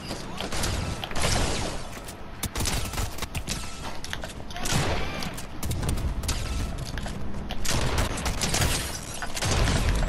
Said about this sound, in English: Are people shooting you guys?